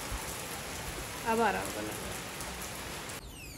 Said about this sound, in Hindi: ये तो बहुत ही धार वाली बारिश हो रही है।